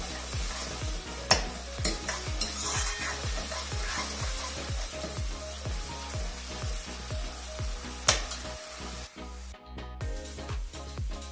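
Tomato and spice masala fries in a pan, a constant crackling sizzle with rapid regular stirring taps and a couple of louder knocks, close and steady, with no speech.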